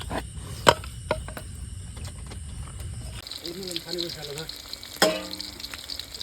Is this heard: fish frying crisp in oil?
yes